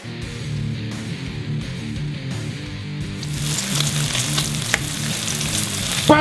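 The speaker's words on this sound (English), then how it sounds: "Bacon! Listen to that sizzle." Bacon fries in a pan with a loud, dense crackling sizzle that swells and intensifies partway through, close and continuous, with faint stirring.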